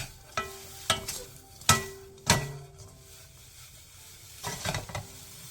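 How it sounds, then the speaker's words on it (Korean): Seasoned dried shredded pollack being stir-fried with sugar in a pan, heard as several sharp scraping stir strokes over a light sizzle, with a cluster of quicker strokes near the end. "설탕 3분의 1스푼을 가에 둘러가면서 넣어준 뒤 2분 정도 더 볶아주세요"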